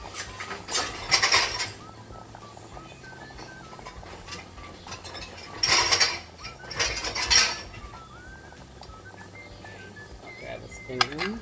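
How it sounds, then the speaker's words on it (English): A metal spoon scraping and clinking in a pan while sautéing with garlic and herb seasoning, two bursts of close stirring clatter separated by quieter sizzling background. "Grab a spoon and just start sauteing it around."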